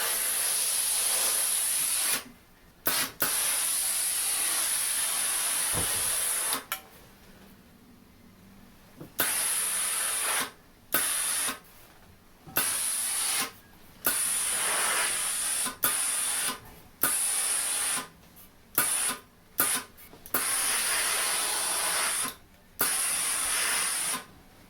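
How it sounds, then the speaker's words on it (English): A steam iron hisses in repeated bursts as it steams the wrinkles out of a heavy wool coat; about a dozen loud blasts with short quiet gaps, no talking. "You're letting the steam and just a bit of tension, light tension, steam out the creases and wrinkles that are in the fabric."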